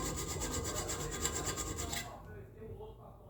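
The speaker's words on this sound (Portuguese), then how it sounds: "Agora vou usar essa lima aqui, uma lima chata, fina também." Flat needle file rasping along a steel dagger blade, a steady close scraping for about two seconds that then stops, leaving quiet room tone.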